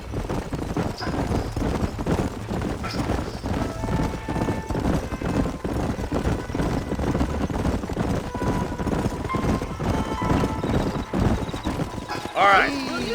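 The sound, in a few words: horses trotting in a video game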